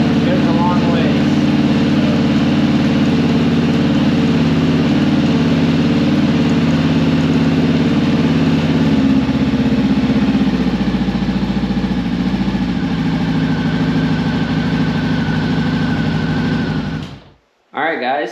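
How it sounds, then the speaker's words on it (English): Motorcycle engine idling steadily in gear on a lift with the rear chain driven, a near, even mechanical hum with a light whirring rattle for about seventeen seconds before cutting off abruptly. "I just put it in gear on the lift and just let it run real quick"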